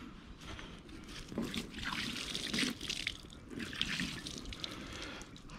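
Water trickling and splashing close by in an inflatable fishing kayak (Sea Eagle 385fta FastTrack Angler), in a continuous flow that swells in a couple of louder surges.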